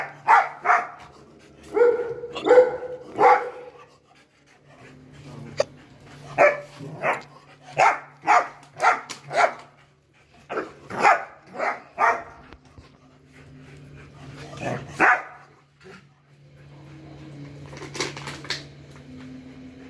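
Several dogs barking on a farm in repeated bursts of sharp barks, some close and loud, with a low steady hum running underneath.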